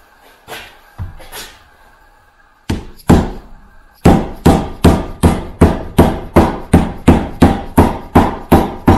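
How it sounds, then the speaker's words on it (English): A rubber mallet taps a dust cap onto a trailer hub: a few scattered knocks, then a steady run of about a dozen evenly spaced, sharp blows, close and loud. "you do have to hammer them on for the most part"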